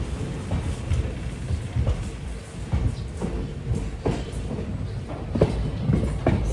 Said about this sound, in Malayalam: 5:51 ജൊറാട്ടിൽ നിന്ന് ഇതാ ട്രെയിൻ എടുത്തു.